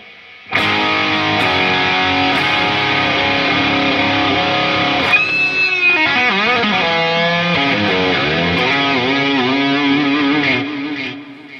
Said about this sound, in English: the clean channel of the Sur, and I'm using a Rev G3 distortion pedal.